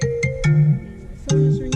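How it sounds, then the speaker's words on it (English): A phone rings with a short electronic ringtone, bright tonal bursts that repeat in a quick melodic pattern, close and clear with nothing else around it. "And the phone is ringing."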